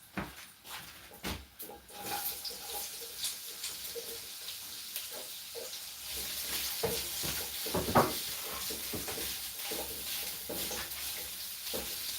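Onions sizzle and crackle steadily in hot oil, with a few sharp clatters and stirring scrapes early on, then a continuous frying hiss.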